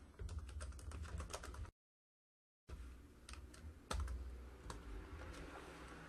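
Quiet typing of code on a computer keyboard, fast irregular key clicks close by, broken by a short silent gap before the typing resumes, with no talking.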